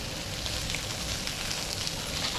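Sausages sizzle and spit steadily on a hot cooking surface while being flipped, a continuous dense crackle at moderate level with no talking.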